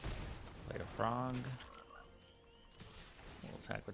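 A single frog croak sound effect from the MTG Arena card game, a short rippling croak heard at moderate volume among quiet game sounds and faint background noise.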